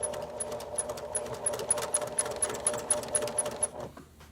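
Sewing machine stitching the seam of a fabric mask, a fast steady mechanical whir with rapid rhythmic needle ticks, close and continuous before slowing and stopping at the end.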